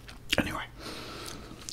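Someone bites and chews a Cathedral City cheeseburger up close at lunch, with a crisp bite near the start followed by softer, quieter mouth sounds.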